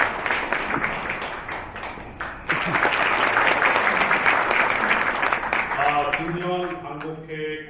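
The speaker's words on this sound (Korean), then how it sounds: "여러분 큰 박수로 맞이해 주시면 대단히 고맙습니다" Audience applause at an inauguration ceremony welcoming a tenor to the stage: moderate clapping that swells to a fuller burst, then fades as sustained instrumental music begins.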